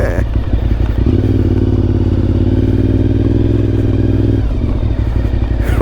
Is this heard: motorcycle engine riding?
yes